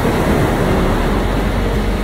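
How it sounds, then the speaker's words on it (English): Atlantic Ocean waves on a wild beach at False Cape State Park, Virginia, a loud, dense and unbroken roar of surf with wind rush, close and steady with no talking. "Hear that beautiful sound"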